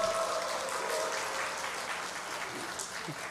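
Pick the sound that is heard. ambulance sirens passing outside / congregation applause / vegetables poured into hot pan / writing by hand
congregation applause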